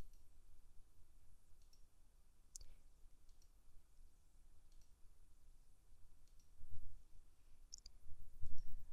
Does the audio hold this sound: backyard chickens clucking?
no